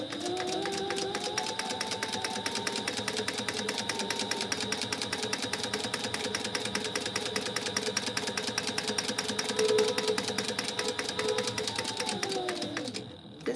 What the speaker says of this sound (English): we're just going to top stitch across the top here to just make this nice with a 1/4 inch top stitch